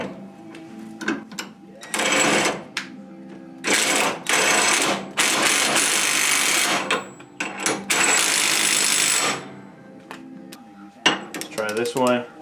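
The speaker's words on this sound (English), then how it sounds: "I'm going to use the 1/2 inch impact on setting 3. This is the Ryobi P261, so it is a brushed motor." A brushed Ryobi P261 1/2-inch cordless impact wrench on setting 3 fires in several loud bursts of rapid hammering, each lasting a second or more, separated by pauses, with short clicks and rattles between.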